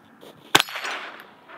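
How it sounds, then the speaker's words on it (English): A single sharp crack of a .22 LR round fired from a rifle into cheap eBay body armor, with a bright metallic clang on impact followed by a brief fading ring. "22 LR out of a rifle"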